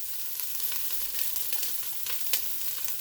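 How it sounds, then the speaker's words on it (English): Vegetables sizzling in a hot pot, a steady crackling hiss with scattered sharp pops and occasional stirring, close and alone. "You hear that sizzle?"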